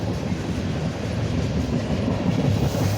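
A CSX mixed manifest freight train heading east past Beaver Falls, Pennsylvania, rolls by with a steady, loud low rumble and continuous wheel noise, with no talk over it.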